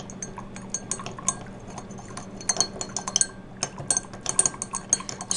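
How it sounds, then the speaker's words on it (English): A stirring rod clinks and scrapes against a glass container as corn syrup is stirred, with a steady run of small bright taps and clinks that grow busier toward the end, close and fairly quiet. "Now I'm going to take my stirring rod and I'm going to stir it in"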